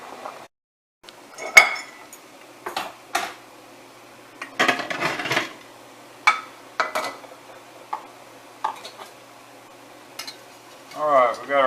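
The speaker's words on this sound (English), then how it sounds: "We're fixing to take them off the burner." Metal pots and utensils clink and clatter in scattered bursts as a pot of boiled fingerling potatoes is taken off the stove burner, with scraping and knocks close by in a quiet kitchen.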